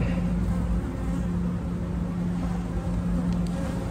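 A honeybee colony is handled at the hive, giving a continuous dense buzzing drone close by with a steady low hum throughout and no clear talk.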